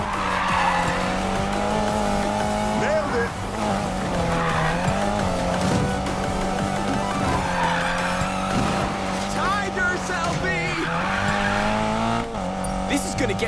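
A car drifting in Need for Speed Payback gives a sustained, loud engine drone and long wavering tire squeals that rise and fall through the slide, with brief dips as the car shifts, up close throughout.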